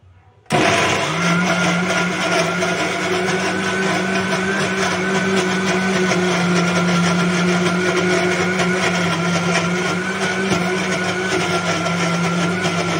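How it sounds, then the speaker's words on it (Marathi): A kitchen mixer grinder starts abruptly and grinds a cooled masala mixture for a village-style misal, running as a loud, steady motor whine with a constant hum from start to finish. "आता हे सर्व मिश्रण गार होऊ द्यायचे आणि मिक्सरला वाटून घ्यायचे"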